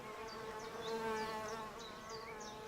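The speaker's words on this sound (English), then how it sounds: "it's that time of year when the solitary bees are really evident" Solitary bees buzzing in a garden during the season they are active, a faint steady hum with small rising chirps over it, continuous and close.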